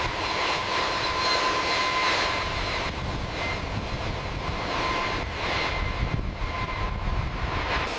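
A Tu-154 tri-jet's engine runs during a factory noise test with acoustic nacelles fitted, giving a loud, steady jet roar and whine that keeps an even level throughout, with no speech.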